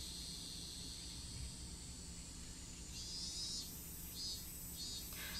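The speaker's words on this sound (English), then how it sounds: "Outside, it was still early enough for the cicadas to be crying." Cicadas in a video game scene, a faint continuous high-pitched trilling drone that swells in short pulses toward the end.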